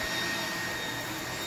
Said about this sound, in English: first off, we're going to turn on our fan